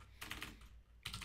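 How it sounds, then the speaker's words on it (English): Typing on a computer keyboard at a command line: two short bursts of quick, close, soft key clicks separated by a brief pause, heard alone with no talking. "also start typing to narrow down"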